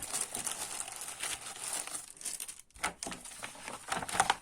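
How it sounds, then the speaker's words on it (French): Paper offcuts rustle and crinkle as they are pushed into a snap-button pouch, a soft, continuous close-up scrunching with brief pauses. "Il n'y a plus qu'à mettre les chutes de papier à l'intérieur."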